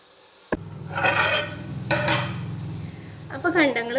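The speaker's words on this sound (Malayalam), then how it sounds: "ഉണക്കമുളകും പിന്നെ അതേപോലെ തന്നെ തേങ്ങാക്കൊത്തും കറിവേപ്പിലയും ചെറിയുള്ളി എല്ലാം കൂടെ ഇതിൽ നന്നായിട്ടൊന്ന് വഴറ്റി" A metal spoon clanks and scrapes in a pan as dried red chillies, coconut pieces, curry leaves and shallots are sautéed in coconut oil. Loud, close clattering strokes come in bursts, and a voice briefly rises at the end.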